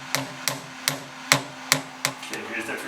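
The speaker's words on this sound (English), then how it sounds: "here's the precision machinist hammer. Oh, I tapped it wrong way." Precision machinist hammer tapped seven times in a steady rhythm, sharp close knocks with short ringing decay, followed by softer handling noise.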